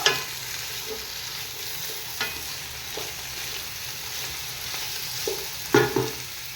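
Onions roasting in a pan for mutton biryani, a soft steady sizzle with occasional clinks and scrapes of stirring, a few louder knocks near the end, no talk.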